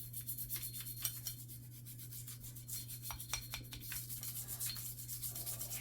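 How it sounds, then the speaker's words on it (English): A brush scrubs the slide rail cuts inside a Glock pistol slide, giving repeated short bristly scratching strokes in quick bursts, close and fairly quiet, against a steady low hum. "And you want to scrub out your slide rail cuts really good on either side."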